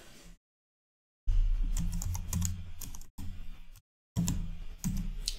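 Someone types a smart contract on a computer keyboard, with brisk, close clicking keystrokes in bursts separated by short silent gaps.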